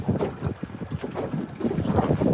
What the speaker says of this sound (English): Oh, that's windy. There's gusts coming through.